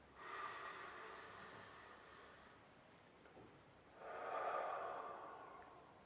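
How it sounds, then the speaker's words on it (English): Two slow, deep breaths drawn in through the nose and let out, soft and close in a quiet room, the second longer and fuller than the first. "Take a deep breath."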